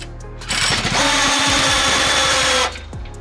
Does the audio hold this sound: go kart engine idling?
yes